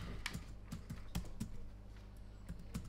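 Typing on a computer keyboard in an office scene: irregular, close, crisp keystrokes tapping out in an uneven rhythm over a low steady hum, with no talking.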